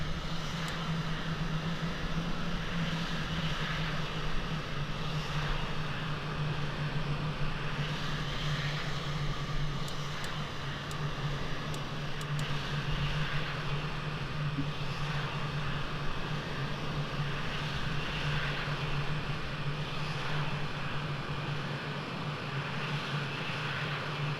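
F-16A jet engine idling on the runway in the flight simulator Falcon 4 Allied Force: a continuous steady whine and roar with a strong low hum, loud and unbroken throughout, with no talking.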